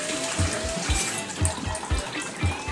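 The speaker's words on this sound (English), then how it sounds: "wash my fingers up because I don't want to get germs all over it" Fingers being washed under a running tap, a steady splashing stream with soft rhythmic low thumps as hands move through the water, close and continuous.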